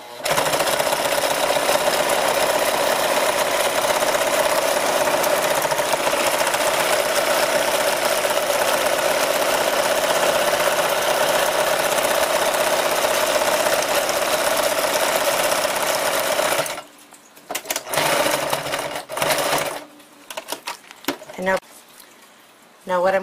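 A sewing machine stitching a buckskin pouch runs loud and continuous with a steady mechanical whir for most of the stretch, then stops and gives a few short bursts near the end.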